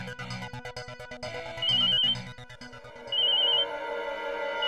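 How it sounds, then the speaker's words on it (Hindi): A telephone rings with an electronic, melodic ringtone in repeated bursts, close and fairly loud, with no voices. "घंटी बज रही है।"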